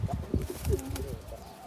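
Pigeons coo close by in a loft of breeding birds, soft throaty calls repeating in quick overlapping phrases without talk.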